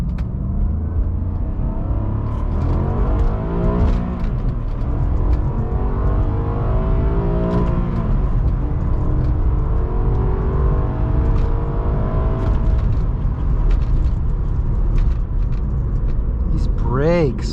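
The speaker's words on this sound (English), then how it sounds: "We'll do like a nice first gear pull for you guys over here" A 2006 Maserati Quattroporte M139 pulls hard in first gear, its engine note rising steadily and loud from inside the cabin over the full stretch, ending with a sharp upward sweep.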